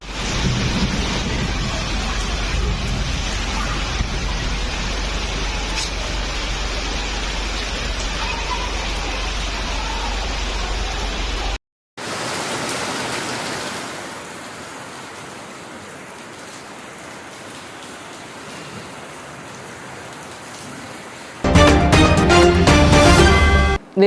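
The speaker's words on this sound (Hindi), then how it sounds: "शहर में गुज़िश्ता 2 रोज़ से बारिश हो रही है" Heavy rain pouring down in a city during a two-day downpour, a steady dense hiss that cuts out briefly midway and resumes, with a louder burst of splashing and rumble near the end.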